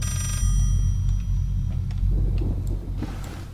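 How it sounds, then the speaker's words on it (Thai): A telephone rings in the horror video game Layers of Fear, a brief electronic ringing at the start over a steady low rumble, followed by scattered faint clicks and soft ambient noise. "นั่นโทรศัพท์เข้านะคะตอนนี้โทรศัพท์ในเกมนะไม่ใช่ของจริงนะ"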